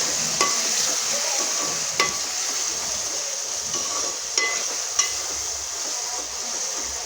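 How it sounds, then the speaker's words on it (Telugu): Onions and green chillies frying in a pan for a traditional chicken curry, a steady bright sizzle with a few sharp clinks of a spoon against the pan; no talking. "ఉల్లిపాయలు, పచ్చిమిరపకాయలు ఇవన్నీ కూడా వేగుతూ ఉన్నాయి"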